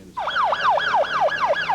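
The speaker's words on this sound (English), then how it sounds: "Police were able to locate the car by listening to the sound of their sirens over the phone." Police siren wailing in a rapid, repeating up-and-down sweep, heard over a phone call, starting abruptly and continuing steadily and clearly with no voices.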